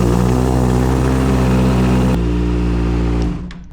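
Kawasaki ZX-6R motorcycle engine after an oil change, running with a loud steady drone close by for about three seconds before cutting off abruptly.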